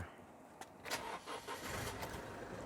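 A 2022 Isuzu D-Max 1.9L diesel pickup engine idles quietly and smoothly at a distance, a soft steady rumble with faint clicks and no talking.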